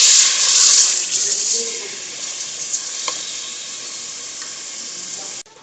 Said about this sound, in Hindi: इसको अब हम 5 मिनट भूनेंगे जब तक हमारा जो गोश्त का कलर है वो चेंज नहीं हो रहा।